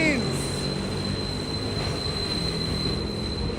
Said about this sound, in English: But that train is nice and loud.